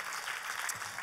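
A church congregation claps for Jesus in a short burst of dense, steady applause that fills the room without a break.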